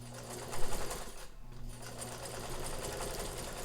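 A Necchi Supernova Ultra sewing machine stitches fabric with short stitches, running close and steady in a continuous whirring rattle with a brief dip partway through.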